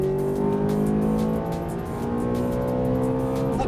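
Ferrari F430 F1 on a race track, its engine roaring loud and close as it accelerates hard, pitch climbing steadily with a short dip partway through.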